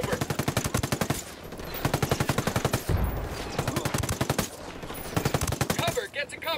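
A game firefight in Ghost Recon Wildlands erupts with dense, rapid gunfire: long rattling bursts of shots repeat throughout, loud and close, briefly easing before another volley.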